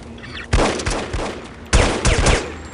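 Gunfire in the video game No One Lives Forever: two loud bursts of rapid shots, each a tight cluster of cracks, separated by a short pause over a low game hum.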